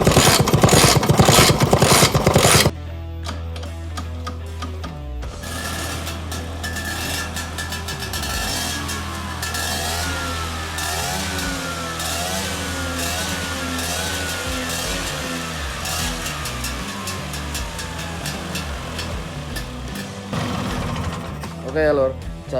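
An old Vespa scooter that has sat unused is kicked into life, then its small two-stroke engine runs steadily up close, buzzing loudly with some rising and falling revs.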